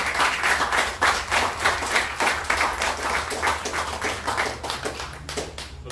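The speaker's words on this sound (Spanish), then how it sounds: "un aplauso para el hermano" A crowd claps steadily, dense applause of many hands, loud and sustained throughout with no clear speech.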